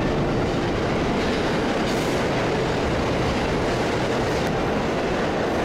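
A New York subway train pulls out of the station with a steady, loud rumble and rattle of wheels on track, continuous throughout, with a faint squeal partway.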